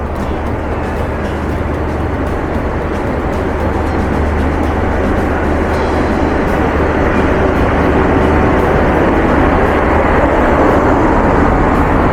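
The down Rupsha Express, a Bangladesh passenger train, pulls out from platform one of a railway station toward Parbatipur, giving a steady loud rumble of wheels and engine that holds without a break and grows slightly toward the end.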